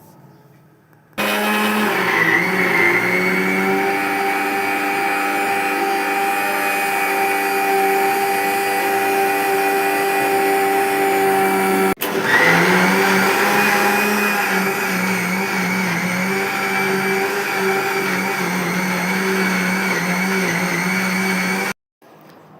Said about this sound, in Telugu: మొత్తం మీగడ మొత్తం కూడా మిక్సీ జార్లో వేసేసుకొని నీట్గా మిక్సీ పట్టేసేయండి.